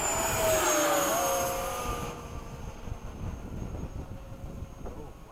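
An RC model Hawk jet flying in freezing cold with gusty wind, its turbine roar loud and broad at first, then fading and thinning as the jet pulls away, with wind buffeting the microphone throughout.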